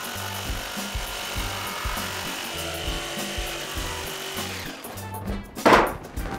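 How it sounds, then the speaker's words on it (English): A handheld router fitted with a top-following bit trims wood drawer faces along a template, giving a loud, steady rasping cut with rhythmic pulses that ends in a brief louder burst. "This is a handheld router and I just put my top following bit in."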